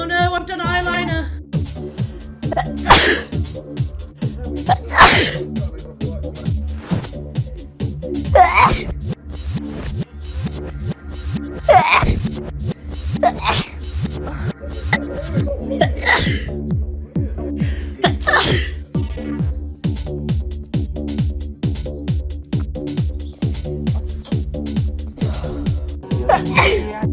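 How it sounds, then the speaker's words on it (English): Repeated sneezing from someone with hay fever, about ten sharp explosive sneezes spaced a few seconds apart over a steady background hum, with gasps and breathy sounds between them. "Oh no, I need to sneeze."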